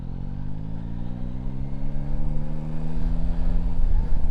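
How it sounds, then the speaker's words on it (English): A Yamaha Tracer 9 GT+ motorcycle on its stock under-bike exhaust gives a steady, close engine drone with clear rising harmonic tones as revs build, growing slightly louder toward the end. "Even with the stock exhaust, which is under the bike, standard big can, the sound same like on the MT-09."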